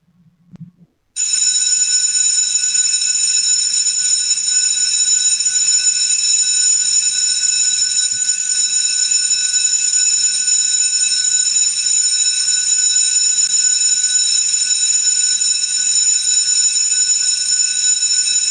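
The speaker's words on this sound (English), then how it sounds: "Councillor Cassidy, please ring the bells." Electric division bells in a Brisbane City Council chamber start abruptly and ring continuously for about seventeen seconds, a loud, steady, high-pitched metallic trill with no pauses.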